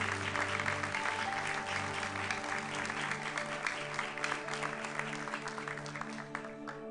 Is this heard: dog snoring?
no